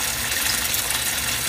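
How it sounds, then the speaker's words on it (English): A steady, close gush of water streams out of the filter tube of an aquaponics setup into the tank. The flow stays continuous and even throughout. "flows in that tube right out into the water."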